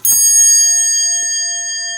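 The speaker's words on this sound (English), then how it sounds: "And finally, we have the Westinghouse dinner bell." One strike of a solenoid hammer on a Westinghouse elevator dinner bell gives a loud, bright chime with a rich, lingering ring that fades slowly over two seconds, with no talking.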